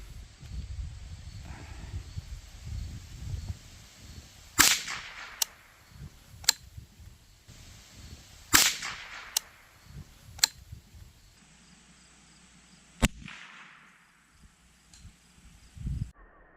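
Several sharp .22 Long Rifle gunshots crack outdoors at a watermelon target, about four loud distinct reports spaced a few seconds apart, with rustling and handling noise in between.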